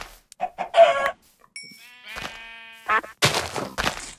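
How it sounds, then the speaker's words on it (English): Chickens in the video game Minecraft, several short separate clucks and squawks spread across a few seconds with near-silent gaps between them, close and clear. "I just found three chickens."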